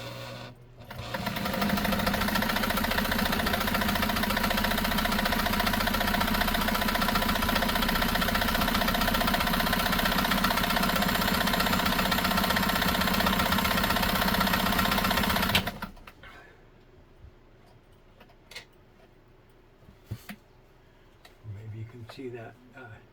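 A Nesco de Luxe push-button zigzag sewing machine runs fast and continuously for about fifteen seconds, a loud mechanical whirring chatter sewing decorative stitches, then stops, leaving quiet handling clicks and a few brief bursts of the motor.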